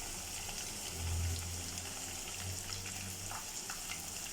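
Finely chopped small onions sizzle in a pan for a Kashmiri chicken curry, a steady broadband frying hiss with a low hum underneath, moderately close and continuous, no voices.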